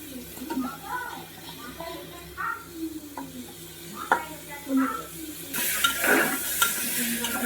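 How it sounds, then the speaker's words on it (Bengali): Washed broken wheat (dalia) being stirred and lightly fried with lentils in a pan for a vegetarian winter-vegetable dish, with steady scraping stirs and soft sizzling, louder toward the end. "ধুয়ে রাখা ডালিয়াটা দিয়ে দেব, এর সাথে একটু হালকা করে ভেজে নেব"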